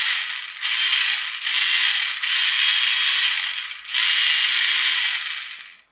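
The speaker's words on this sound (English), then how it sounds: "we appear to have a working electric motor" A replacement electric motor whirring inside the gearbox of a Maisto Extreme Beast RC car, a high, buzzing mechanical whine with gear clatter that runs in four or five bursts separated by brief drops, close up with no talking.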